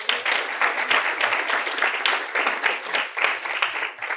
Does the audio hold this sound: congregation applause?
yes